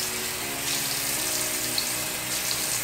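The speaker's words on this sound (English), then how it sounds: "First off, I wet my face." Steady running water from a bathroom tap while a face is wetted during a morning skincare routine, a continuous close splashing hiss that runs throughout with no talk.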